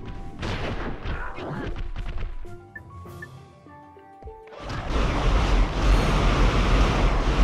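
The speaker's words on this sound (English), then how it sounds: "we're gonna go in guns blazing with the mini rocket tube" Mini rocket tube fired in Ratchet and Clank Going Commando, heavy booming blasts and roaring explosion noise that swell loudly near the end, mixed with game tones and effects.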